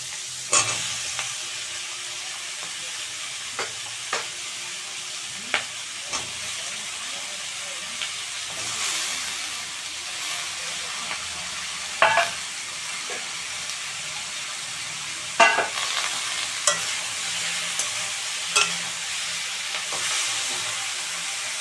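Sliced eggplant frying in a pan with browned onions, a steady loud sizzle and hiss with a spoon scraping and clinking against the pan at irregular intervals, no voices.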